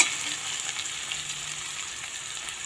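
Chopped onions fry in a pan with a soft, steady sizzle and faint crackle, close but quiet, with no talking over it.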